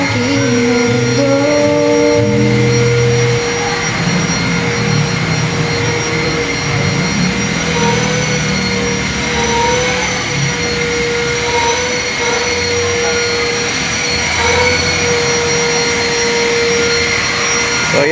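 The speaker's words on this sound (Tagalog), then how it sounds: "bina-vacuum ang basic detailing" Vacuum cleaner running inside a Volkswagen Beetle during basic interior detailing, a loud continuous whine and roar that holds steady for the whole stretch, shifting slightly in tone as the nozzle moves, with no one talking.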